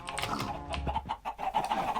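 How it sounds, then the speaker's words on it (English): Chickens in a Minecraft chicken farm cluck in a busy, overlapping chorus of short clucks and squawks, fairly close, with a few keyboard-like taps in the background. "Obviously this is the chicken farm"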